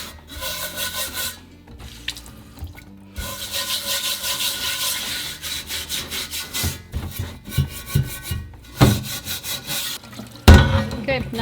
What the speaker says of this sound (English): I'm gonna use this steel scrubber and just kind of give it a good wash.